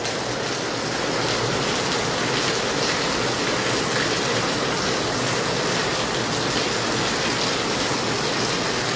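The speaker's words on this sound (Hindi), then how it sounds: "हिसार और आसपास के ज़िलों में तेज़ बारिश और मौसम ने एक बार फिर से करवट बदली है" Heavy rain pouring down in Hisar, a loud, dense, continuous roar of falling water that stays constant throughout, with no voices.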